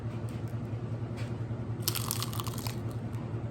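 Crisp bites and crunches into fried lumpia, a short burst of crackly crunching near the middle over steady low background hum.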